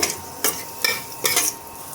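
Chopped garlic and green chili seasoned with salt and black pepper get stirred in a pan, three or four rhythmic metal scrapes over a light sizzle, close and loud.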